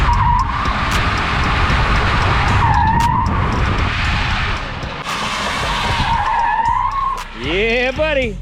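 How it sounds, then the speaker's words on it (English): A Tesla electric-motor-swapped Chevrolet C10 pickup with a new Quaife limited-slip differential does a burnout: loud, sustained tire squealing and skidding that ends in a wavering, rising whine, with voices faintly underneath. "So we're gonna take a chance and hide from the Boca PD for a couple minutes and get you guys a little burnout content"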